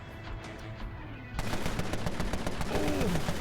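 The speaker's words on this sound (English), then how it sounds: "He shoots in the ceiling, man." Rapid gunfire from the Empire of Sin video game, with a gun shot into the ceiling during a firefight that includes friendly fire. A quiet stretch gives way to a loud, dense run of overlapping shots that carries on to the end.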